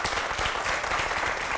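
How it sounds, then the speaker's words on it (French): An audience applauds Enza at a French TV show taping on landlords and tenants, a dense, even patter of clapping hands filling the room for a brief moment. "Merci d'applaudir pour Enza."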